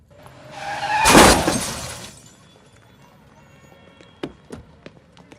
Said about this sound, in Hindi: और दिखाई नहीं देता, गाड़ी ठोक दी मेरी।